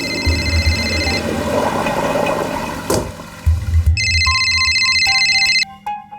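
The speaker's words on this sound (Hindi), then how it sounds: "देखना तेरा फोन बज रहा है" A phone ringtone plays in repeated electronic tone bursts, pausing briefly midway before resuming, with a rumbling background under the first part.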